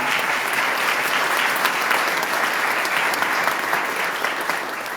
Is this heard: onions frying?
no